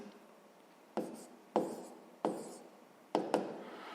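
Handwriting a sixth-grade math long-division solution: several quiet, brief scratchy strokes spaced about half a second to a second apart, with a close pair near the end and no voices.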